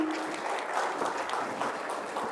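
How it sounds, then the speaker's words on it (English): Steady audience applause at a CHRO conference as a Yokohama off-highway tires executive takes the stage, a dense even wash of many hands clapping throughout with no voices over it. "Can we have a huge round of applause,"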